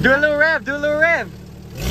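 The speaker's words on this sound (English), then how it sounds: "Do a little rev, do a little rev." A Jeep engine revs twice in quick rising blips nearby, then settles back to a quieter idle, with voices chatting around it.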